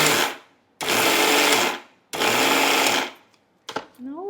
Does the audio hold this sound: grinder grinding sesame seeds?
yes